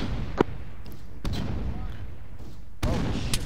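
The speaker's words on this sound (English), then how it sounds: "it's a freaking grenade launcher" Grenade launcher rounds firing in the game ARK, three sharp booming blasts spaced apart over a steady low rumble, fairly loud and close.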